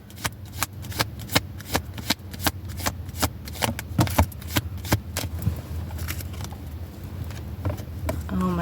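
Tarot cards are shuffled by hand in a quick series of crisp riffling flicks, about a dozen sharp bursts at a steady rhythm, close and quiet, thinning out toward the end.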